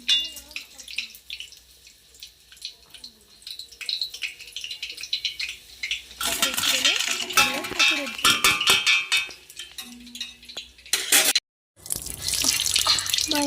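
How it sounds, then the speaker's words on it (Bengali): Tap water runs and splashes while a coconut and a kathari knife are rinsed, starting as a thin trickle and swelling into a louder gushing stream, with a short gap before it resumes. "মা এখানে নারকেল এবং কাঠারিটা ধুয়ে নিচ্ছে"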